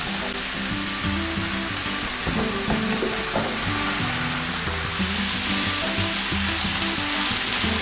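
Beef, celery and tomatoes for osso buco frying in a pan, a dense, constant loud hiss of sizzling fat with faint clinks and scrapes of stirring underneath, close up and without talk.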